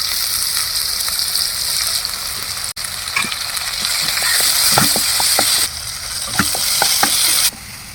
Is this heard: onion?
yes